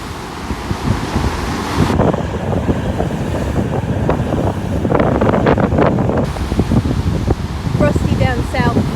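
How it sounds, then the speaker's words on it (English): Sea waves rolling onto the shore in Tenerife on a rough day, a broad roar of surf with heavy wind buffeting the microphone, loud and continuous, swelling and easing as the waves break. "you can't beat the sound of the waves on the shore"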